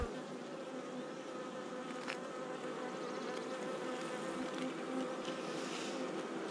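Honeybees buzz steadily around a hive, a dense, continuous drone of many wings close by with no voices.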